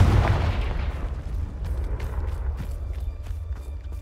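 A booming Confringo spell explosion from the Hogwarts Legacy game opens loud and near, then its rumble decays over a few seconds with faint scattered crackles.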